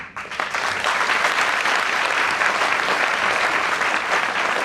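Thunderous audience applause at a ChampCash business seminar in Delhi, a dense, continuous roar of many hands clapping that swells quickly and holds loud and steady for several seconds with no talking.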